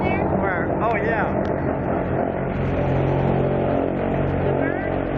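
Steady roaring drone of an airboat's airplane engine on an Everglades swamp tour, loud and continuous throughout, with passengers talking over it.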